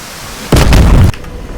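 A Hellfire AGM-114L missile fires from an AH-64D Apache in DCS, one loud, close roaring burst lasting about half a second before cutting off into a quiet background.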